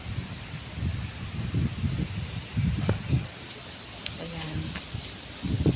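Strong wind blowing outdoors, a continuous low rushing roar with buffeting on the microphone, as a person speaks briefly over it.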